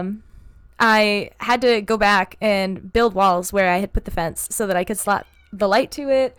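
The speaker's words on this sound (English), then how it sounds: "she's meowing at me because she can hear me talking and she can't get into the room" A pet cat meowing from outside a closed room door, its cries mixed in with a person talking continuously close by.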